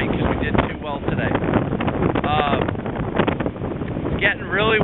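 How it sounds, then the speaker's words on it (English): Strong gusting wind roars across the microphone on a sailboat, with someone talking over the blustery noise throughout. "I don't know if you can hear the wind."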